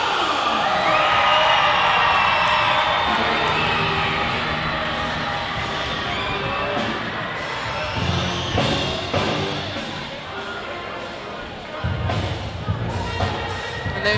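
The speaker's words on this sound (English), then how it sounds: "Looks like the crowd's getting really hyped" Crowd noise fills a high school boys' basketball game at Pike High School, a loud roar of cheering and whoops in a gym that eases slightly, with squeaks and thuds from the court and voices throughout.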